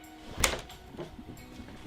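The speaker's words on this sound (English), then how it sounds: "So you open the door" A house back door opens with a short latch clack and a brief creak, close and moderately loud, followed by faint rustles and movement in a quiet room.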